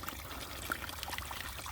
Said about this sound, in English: If you just let a little bit of water run over it and mix it, all the really fine particles of dirt wash off.